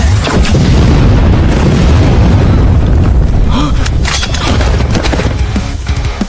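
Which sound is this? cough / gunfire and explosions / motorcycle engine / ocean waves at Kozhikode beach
gunfire and explosions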